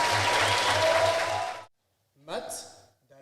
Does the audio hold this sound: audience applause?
yes